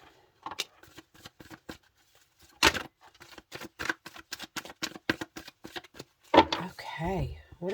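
Tarot cards are shuffled and pulled in a quiet room, giving a string of crisp, close riffles and flicks with short pauses between bursts and a brief rustle near the end.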